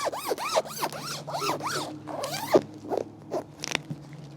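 Zipper on a rear backrest seat protector in a Tesla Model Y Juniper, pulled in a quick run of short rasping strokes at close range, followed by a few softer tugs.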